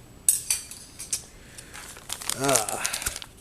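A plastic MRE spoon is handled and pulled from its crinkly wrapper, giving brief rustles and crackles with a louder crinkling burst near the end, close and fairly loud.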